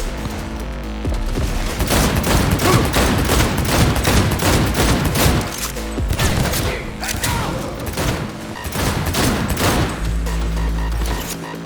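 Rapid, dense gunfire in the video game Cyberpunk 2077, repeated loud close bursts with booming low thumps in an almost continuous fusillade, with game sounds mixed in throughout.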